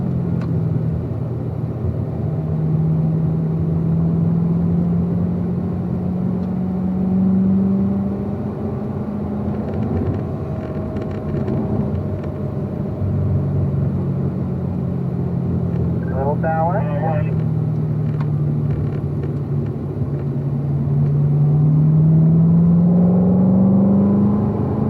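A Chevrolet Corvette engine on a racetrack drones and climbs in pitch as it accelerates, easing off and building again over a long stretch, with cabin noise and a voice speaking intermittently.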